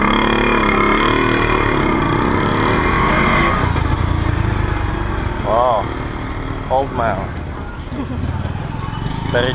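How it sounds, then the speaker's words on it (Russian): An old man rides a motorcycle through a provincial Philippine village in San Pedro, its engine droning loud and close, then easing off as other traffic noise and a few brief horn-like tones cut in. "Старичок за рулем мотоцикла."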